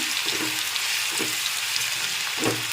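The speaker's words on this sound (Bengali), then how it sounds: "একটু নেড়ে চেড়ে ভেজে নিচ্ছি" Ginger-garlic paste sizzling steadily in hot oil for restaurant-style chili chicken, with a few soft scraping stirs of a spatula recurring across the pan, close and alone without talk.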